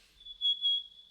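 One person whistles a thin, steady high tone for about a second, wavering slightly in loudness as it pulses twice, alone and close.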